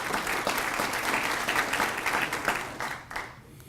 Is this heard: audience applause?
yes